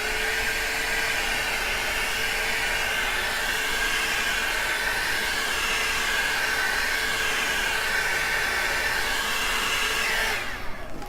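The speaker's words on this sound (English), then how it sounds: "So let's apply some heat so we can get some cells" A heat tool blows hot air steadily over an acrylic dirty cup ring pour in gold and brown, giving a continuous loud whooshing hiss that holds level for about ten seconds and then cuts off.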